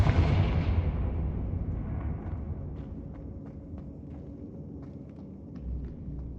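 A Confringo fire spell blast in the video game Hogwarts Legacy, a loud booming explosion that decays into a long rumbling tail with scattered crackles and light clatter.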